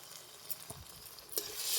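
A utensil briefly mixes soy sauce and tomato sauce in a pan, giving a few faint scrapes over a soft sizzle that grows slightly louder at the end.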